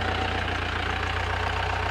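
A jeep engine idles close by, a loud, even rumble with a steady low pulse and no voices over it.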